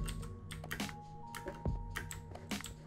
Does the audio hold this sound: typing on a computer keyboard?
yes